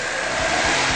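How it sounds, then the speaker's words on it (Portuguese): A car engine revs steadily and loudly for about a second in a mechanic's workshop, a continuous roaring drone with no talk over it. "Acelera, Chico."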